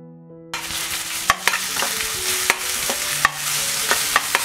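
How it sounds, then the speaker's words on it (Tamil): Ginger garlic paste frying in hot oil for a vegetarian thali, a steady sizzle broken by several sharp clicks of a spoon scraping the pan, with no talking. "இப்போ இஞ்சி பூண்டு விழுதும் ஃப்ரை ஆயிடுச்சு"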